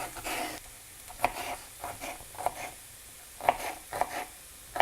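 Green pepper and onion frying in a pan give a steady close sizzle, broken by a few sharp scraping stirs; no one speaks over it.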